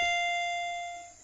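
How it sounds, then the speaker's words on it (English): A doorbell in Higurashi sounds once as a single bright electronic chime, its tone ringing on and slowly fading over about a second. "The doorbell rang again."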